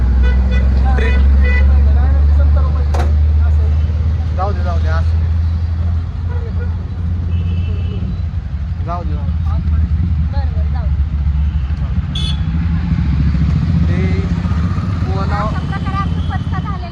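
Riding inside an auto rickshaw in traffic, the engine droning steadily close by, with horn toots and passing vehicles around and people talking throughout.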